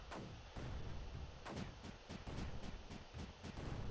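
Cannon fire in the strategy game Creeper World: a series of booming shots at an irregular, roughly half-second pace, deep and punchy, repeating over a low background rumble.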